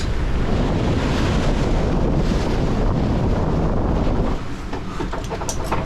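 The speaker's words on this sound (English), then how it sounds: "Waves and winds are picking up" Stormy wind roaring across the microphone aboard a sailboat at sea, with waves surging and splashing around the hull, loud and continuous, easing slightly near the end.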